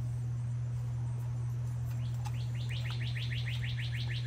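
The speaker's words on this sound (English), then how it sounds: "The birds are chirping." Birds chirp outdoors in a quick rhythmic series of high tweets, fairly faint over a steady low hum, with no talking.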